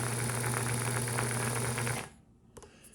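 A Singer 99 sewing machine runs steadily while winding a bobbin, a loud whirring motor hum that cuts off abruptly after two seconds, followed by a few faint clicks.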